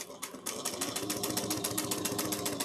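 Sewing machine top stitching a bag at 1/8 inch, a fast steady needle rattle with evenly spaced stitch pulses running continuously and close up, no voices over it.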